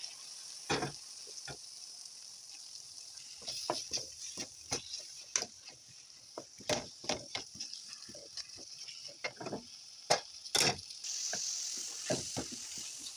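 Fenugreek leaves go into a pan of fried dal mixture and sizzle quietly while a spoon scrapes and stirs in scattered clicks and knocks. The sounds are faint and close, with no talk.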